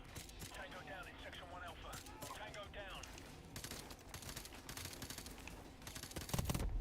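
Rapid automatic gunfire from a magazine being emptied at several enemies in a video game, crackling bursts of shots, first under a voice talking, then dense and continuous toward the end.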